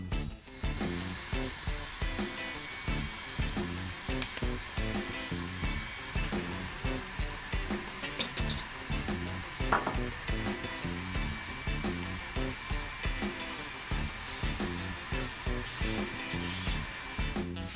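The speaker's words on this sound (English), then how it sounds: "the next thing you'll see is me spending about half an hour in front of the Dremel tool, rounding everything and cleaning it up" Dremel rotary tool rounding and cleaning up the edges of a foam melee weapon prop: steady, close grinding and rubbing with a repetitive pulsing rhythm throughout, occasional brief higher whines.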